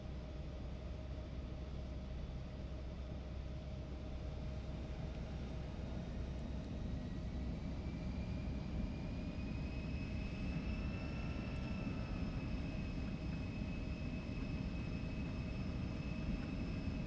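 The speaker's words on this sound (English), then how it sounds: "We're configured for takeoff with flaps 5." Embraer E175 jet in the X-Plane 12 flight simulator during its takeoff roll, a steady loud engine roar with a constant whine and tones rising gradually as the engines spool and the aircraft accelerates.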